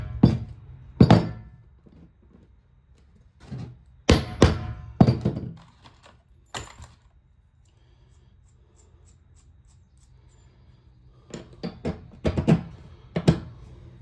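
A hammer tapping in a work setting, heard as scattered sharp knocks and clinks in two clusters with a long quiet stretch between them, close and fairly loud, with no talking.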